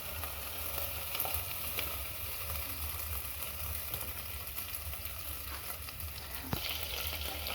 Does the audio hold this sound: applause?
no